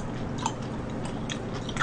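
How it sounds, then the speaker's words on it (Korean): Chewy sticky rice cake (chaltteok) being chewed close to the mic, with soft, quiet, moist bites and small crunches repeating through the stretch, and no talking. "이게 찰떡이라 이거 좀 많이 씹어야지 넘어가는데"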